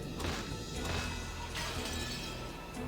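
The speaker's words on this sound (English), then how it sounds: "The glass smashed with a violent sound and the frame groaned and creaked." A glass window smashed with an antique chair in the Umineko visual novel: a dense, sustained crash of breaking glass with a sharp impact near the start and another burst midway, loud and continuous with no voices.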